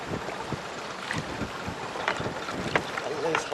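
Wind and choppy waves surround a fishing boat on the Sea of Galilee, a constant rushing wash with irregular slaps and knocks against the hull, and faint voices in the background.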